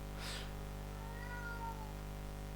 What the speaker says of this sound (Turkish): Ve kedi ses yapıyor. Kedim ses yapıyor.